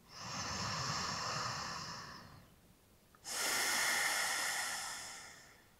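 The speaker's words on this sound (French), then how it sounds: "on revient à la respiration Ujjayi" Slow Ujjayi breaths during a yoga flow, a long audible airy inhale-exhale, a brief pause, then another strong breath, close and alone without talk.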